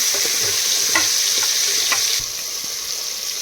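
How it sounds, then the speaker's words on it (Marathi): Tomatoes, potatoes and soybeans stirred in a hot pan for soybean khichdi, with a steady close sizzle and a few soft scrapes of the spoon through the mix. "लगेच टाका टमाटे, बटाटे आणि हे सोयाबीन. चांगलं मिक्स करा."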